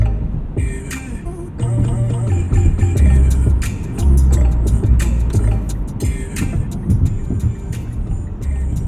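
Music plays loud through the factory stereo of a 2020 Mitsubishi Outlander Sport 2.4 GT AWD, with heavy booming bass and percussive hits running continuously throughout.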